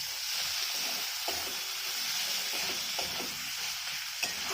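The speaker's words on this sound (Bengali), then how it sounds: "টমেটোটা দিয়ে আবারও ভালো করে কষে নেবো।" Boiled snails and tomato stir-fried in hot oil, a steady sizzle with scraping spatula strokes and occasional clinks, close and continuous throughout without talk.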